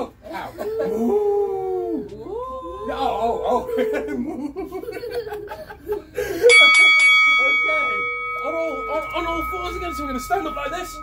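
A bright ringing bell signals the start of an exercise round in a family fitness animal yoga session, sounding once with a long sustained tone after a stretch of talking and laughter from the group.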